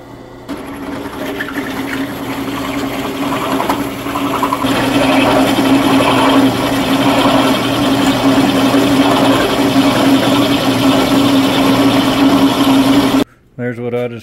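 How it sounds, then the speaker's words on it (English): A drill with a hole saw grinds steadily for over ten seconds, loud and close, with a droning motor hum, then stops abruptly near the end. "There's what I just cut out with that drill bit, boys. Or with that hole saw"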